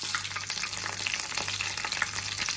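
Curry leaves crackle and sizzle in hot oil, a dense, continuous frying hiss that stays loud and close throughout.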